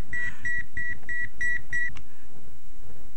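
A telephone rings in a 1990 drama scene as six quick, evenly spaced electronic beeps, fairly clear over a low room hum, then stops.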